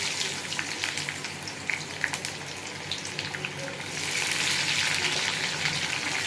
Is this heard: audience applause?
no